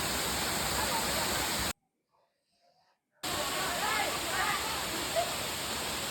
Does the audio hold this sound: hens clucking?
no